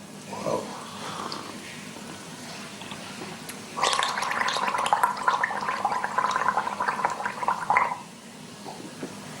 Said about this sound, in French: Le gargarisme, c'est l'utilisation de l'urine en bain de bouche et en gargarisme pour nettoyer la gorge